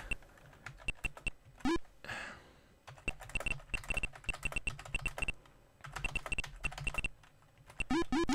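Rapid bursts of computer keyboard typing during the Mario Teaches Typing game, crisp close clicks in quick runs broken by short pauses, with bright chiming game tones between them.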